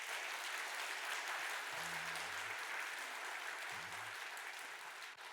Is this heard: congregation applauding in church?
yes